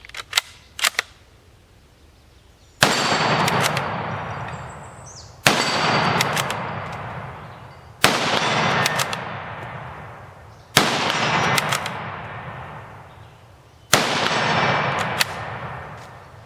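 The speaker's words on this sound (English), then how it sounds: "being able to shoot steel cased ammunition all day long through this rifle is just so much fun" Rifle shots from a CZ527 chambered in 7.62x39 firing steel-cased ammunition: five sharp, loud reports spaced a few seconds apart, each trailing off in a long outdoor echo, with a couple of faint clicks at the start.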